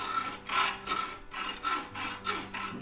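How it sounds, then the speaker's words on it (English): Back-and-forth strokes of a hacksaw cutting through stock, about five rasping passes in under three seconds, close and steady with no talking. "When you use a hacksaw, you really want to get the blade tight."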